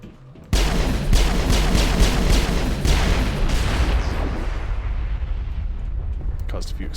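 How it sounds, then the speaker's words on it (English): Heavy explosions boom in a pirate-themed video game, a sudden loud blast followed by a sustained rumbling roar with rapid repeated bursts layered over it, slowly fading. "Caused a few explosions."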